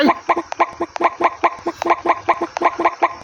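A rooster clucks in a quick, regular series of sharp, close, loud calls, about a dozen in just over three seconds, with no talk.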